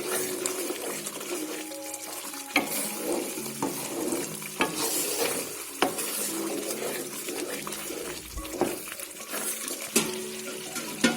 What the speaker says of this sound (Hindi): हरी मिर्चें भी हम इसमें ऐड करेंगे और इसको अच्छे से मिक्स कर लेंगे